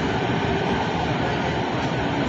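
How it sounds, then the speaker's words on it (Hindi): A Mumbai Metro train rumbles along the track, heard from inside the carriage as a loud, constant wash of rolling noise with no breaks. "और मेट्रो ट्रेन भी चल रही है।"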